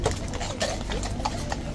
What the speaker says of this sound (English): maybe you hear the clippy clop sound behind you and get out of the way